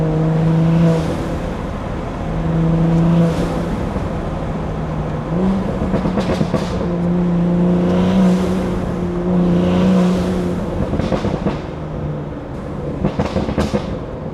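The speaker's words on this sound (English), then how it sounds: "Listen to this intake, chat." A 500 hp BMW 340 driving on the road, its intake and exhaust droning and rising through repeated revs and gear changes, loud and close throughout.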